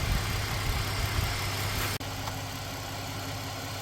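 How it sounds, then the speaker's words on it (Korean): A Hyundai Staria's four-cylinder diesel engine idles with the hood open, a steady low rumbling drone heard close with a brief dropout partway through. "엔진 진동도 한번 물병으로 느껴보겠습니다."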